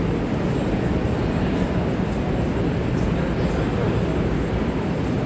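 A Moscow metro train at Oktyabrskaya station fills the space with a loud, continuous rumbling roar that holds steady throughout, with no clear voices.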